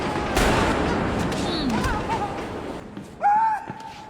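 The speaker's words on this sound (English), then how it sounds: "Oh, you're gonna shoot him again." Gunshots from a film scene, including the movie Joker, ring out amid a busy, noisy soundtrack with talk and background sounds, followed by a sharper loud burst near the end.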